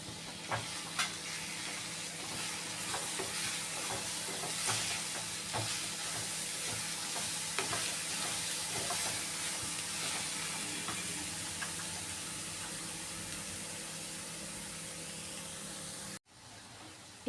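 Vegetables frying in a pan for masala upma, a steady, fairly quiet sizzle with scattered crackles and occasional stirring scrapes running continuously, then a brief dropout near the end.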